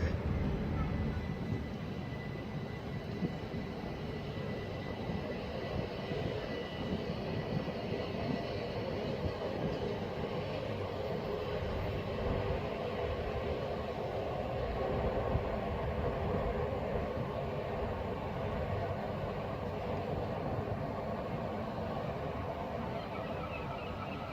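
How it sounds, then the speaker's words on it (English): A Southeastern service from Dover Priory to London Victoria, formed of Class 375 units, rumbles steadily past at Sittingbourne on the Chatham Main Line, a loud continuous roar of wheels and motors that holds level throughout. "1614 Southeastern service from Dover Priory to London Victoria"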